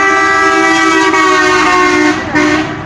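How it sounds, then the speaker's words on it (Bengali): A loud, sustained horn blares from an unlicensed light vehicle on a town road in Jhenaidah, one long tonal blast that holds for nearly the whole moment before cutting off briefly and resuming. "তাও কি হর্ন দিচ্ছে দেখুন"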